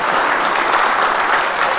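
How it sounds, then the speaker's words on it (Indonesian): Audience at a televised regional election debate in Malinau breaks into lively applause, a thick steady wash of clapping throughout, fairly loud. "Kita berikan tepuk tangan yang meriah"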